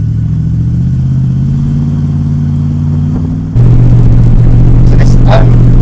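A Jensen FF, an early four-wheel-drive road car, runs with a steady engine hum that steps up suddenly in level and pitch as it pulls away, loud and close, with brief voices over it.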